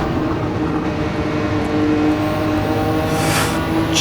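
A race car engine in the Gran Turismo racing game holds a loud, steady, droning tone with sustained harmonics, as if bouncing off the rev limiter in second gear, without voices.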